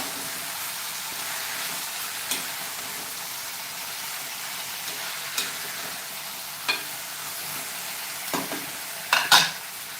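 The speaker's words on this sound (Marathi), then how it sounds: "त्याच्यामध्ये आपण भेंडी घालूया आणि या मसाल्यामध्ये भेंडी चांगली परतून घ्या" Okra frying in a masala, a steady close sizzle with intermittent spatula clinks and scrapes against the pan as the vegetables are stirred, getting busier toward the end.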